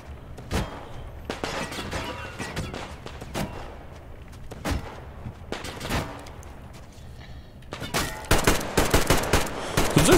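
Gunfire in the Metro Exodus video game comes as repeated single shots and short bursts, loud and close, with a denser volley near the end over game ambience.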